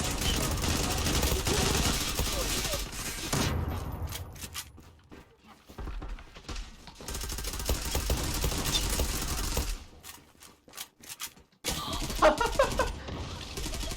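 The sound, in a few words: gunfire in the video game Zula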